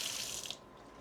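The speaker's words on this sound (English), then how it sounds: "And I'm gonna add 1 cup of warm water." Warm water pours in a quiet hissing stream into a flour and melted tallow mixture for tortilla dough, stopping abruptly about halfway through, leaving near silence.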